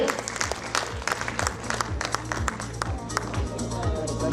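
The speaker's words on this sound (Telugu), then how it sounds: "ఒకసారి గట్టిగా చప్పట్లు" Loud, dense audience applause at a Kalanki Bhairavudu film promotion event in Vijayawada, a steady wash of clapping with a voice speaking over it throughout.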